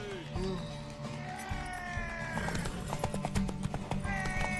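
Video game sounds from The Witcher 3: Wild Hunt: horse hooves clip-clop amid a whinny, with busy overlapping effects and faint voices in a cluttered mix.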